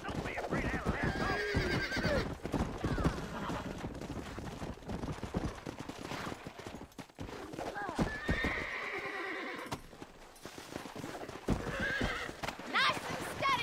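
A horse whinnies and hooves clip-clop in a Red Dead Redemption scene of breaking a horse, with someone talking over it and occasional loud bursts.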